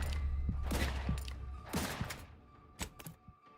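Gunfire from a weapon in the video game The Outer Worlds 2, with a handful of spaced, punchy shots and thuds at a modest rate, loudest early and thinning into a few sharper cracks at the end.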